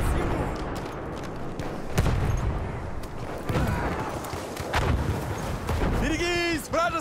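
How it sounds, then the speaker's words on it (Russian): A grenade blast in the WWI shooter Battlefield 1, fought on the Tsaritsyn map, booms amid a steady din of gunfire and battle noise, with shouted voices near the end. "Поберегись! Граната!"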